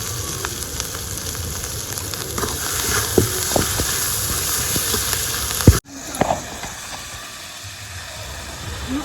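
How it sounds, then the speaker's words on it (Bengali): Spice masala with tomato and kasuri methi sizzles steadily in a pan for aloo dum, a continuous close frying hiss with occasional soft taps of stirring, briefly cut off and then resuming more quietly. "মশলাটাকে খুব ভালো করে কষানো হয়ে এসেছে"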